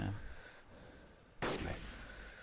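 Gunfire in the video game DayZ during a squad fight: a single sharp shot cracks out partway through over a low steady background, fairly distant and not very loud.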